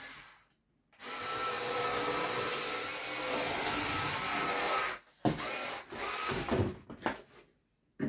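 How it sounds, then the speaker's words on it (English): Knife or cutter slicing excess foam board for a Hello Kitty DIY Easter basket box, a loud sustained scraping rasp for several seconds, then short choppy cuts and handling noises, no talking. "I'm gonna go in and cut off the excess that I don't need"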